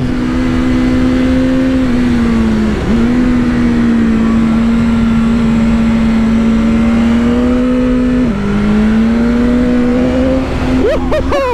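A BMW S1000R motorcycle engine drones at steady high revs while riding, loud and close, with brief dips in pitch as the throttle shifts and a sharp rise in revs at the end.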